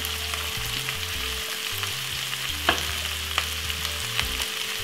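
Bully beef and cabbage with coarse pepper frying in a pan, a steady close sizzle broken by a few clinking stirs of a spoon against the metal, with a low hum running underneath.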